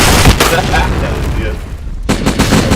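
Grenade explosions in a first-person video game, loud booming blasts with a gunfire-like rattle, a big burst at the start and another after a brief dip, dense and close.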